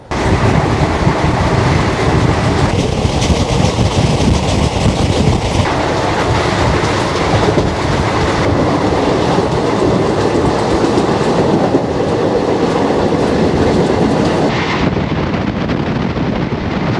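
The 12333 Vibhuti Express, on its run from Howrah to Varanasi, rolls along the tracks just after leaving Buxar station, a loud continuous rumble with rhythmic clickety-clack and wind buffeting the microphone throughout.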